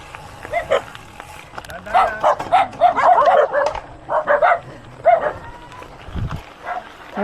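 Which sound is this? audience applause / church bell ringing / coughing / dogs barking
dogs barking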